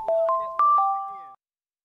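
Short alarm tone from a stream, a ding-dong chime of four soft bell-like notes forming a gentle lullaby phrase, the final tones ringing briefly before an abrupt cutoff into silence.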